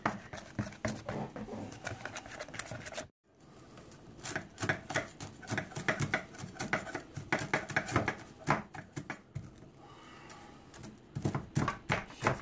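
Chef Mark chopping with a knife on a cutting board in a home kitchen: rapid, steady, crisp blade strikes in a fast rhythm, one brief pause, then more quick chopping with occasional clattering of utensils.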